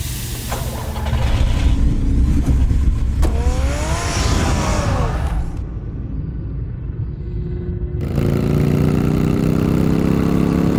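Car engine in the Batman Telltale video game, a loud steady rumble that idles and revs, cuts out briefly partway through, then returns with a strong rising drone.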